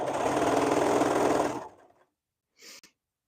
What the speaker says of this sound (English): Seems like sewing in a circle, the circle just grows.